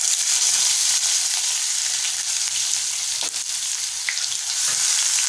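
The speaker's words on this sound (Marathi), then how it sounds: "आपण बारीक चिरलेला कांदा घालूया।" Finely chopped onion with cumin seeds sizzles steadily in a hot pan, a bright continuous frying hiss with a few soft stirring clicks and no voices.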